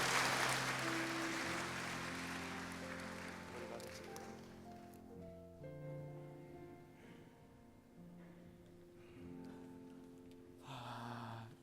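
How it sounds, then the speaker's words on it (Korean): A church congregation applauds during a Sunday worship service: a broad burst of clapping fades over several seconds, while sustained keyboard or organ notes carry on underneath and take over. "박수하겠습니다."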